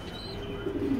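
Racing pigeons cooing softly in a short burst, a low steady murmur that swells slightly toward the end, close by with no talking.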